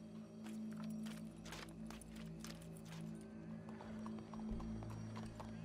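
Horse hooves clip-clopping in Red Dead Redemption 2, a run of fairly quick hoofbeats over a steady low hum and tonal background, moderately close and mostly alone.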